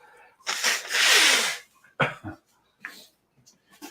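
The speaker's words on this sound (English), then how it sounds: "excuse me while I blow my nose" A loud, wet nose blow lasting about a second, followed by a few shorter sniffs and snorts nearby.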